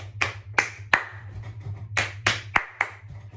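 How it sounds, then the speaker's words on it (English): Rhythmic body percussion of pats, claps, thumps and finger snaps, performed as a sharp, close sequence of about nine distinct hits in a quick, even pattern. "So pat, clap, thump, snaps."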